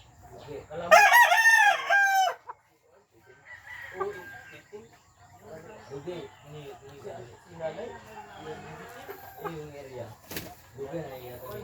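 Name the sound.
chickens and roosters at a poultry yard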